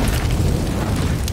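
A grenade explosion in the video game CS:GO, heard as a loud, dense boom that rumbles through the whole moment without a break.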